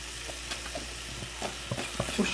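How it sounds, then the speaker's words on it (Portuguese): Yakisoba noodles with a little added water sizzle and fry in a pan, a steady close crackle with small pops and stirring scrapes, no voices. "E vou deixar cozinhar um pouco aí. Cozinhando e fritando, né?"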